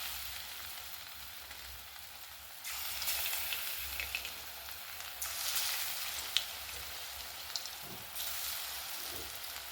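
Okra coated in gram-flour batter is lowered into hot oil for pakora, and the frying jumps to a brighter, louder hiss that keeps crackling steadily, with an occasional small pop and no speech.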